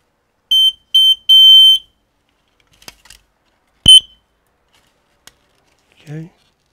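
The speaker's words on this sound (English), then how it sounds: "That's a test button" A photoelectric smoke alarm with a 10-year battery sounds its test beep: three short piercing high-pitched chirps, then a single brief chirp a couple of seconds later, loud and close, followed by a brief quiet voice.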